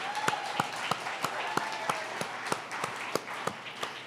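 A small audience at a subway grand opening ribbon cutting claps in sparse, fairly regular individual strikes over a quiet hall murmur, with a voice briefly heard early on.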